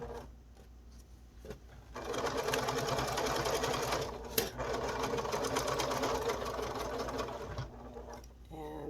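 A sewing machine stitches a fabric face mask with aluminum nose strip, running back and forth in backstitch and forward stitch, a steady loud motor whir for most of the stretch after a brief quieter start.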